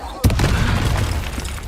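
A Confringo spell in Hogwarts Legacy lands as one sudden loud explosive boom that rolls into a rumbling tail, with voices talking through the clip.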